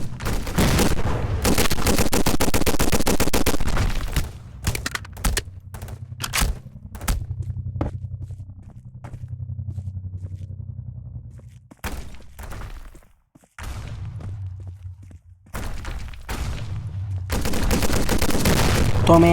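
Missile blasts and rapid gunfire in a Roblox gun game, with loud sustained bursts of automatic fire and sharp explosions separated by quieter stretches of low rumble and scattered shots.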